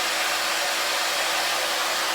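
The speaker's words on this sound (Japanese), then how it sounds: "あとですね、ドライヤーをずっと当ててるのも" A hair dryer drying a dog after its bath blows a loud, steady, unbroken roar of airflow, close and alone throughout.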